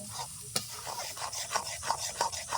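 Pumpkin frying in ghee being stirred, a soft sizzling bed with repeated scraping and tapping strokes of a spoon against the pan at an uneven, unhurried rhythm, close and moderately quiet.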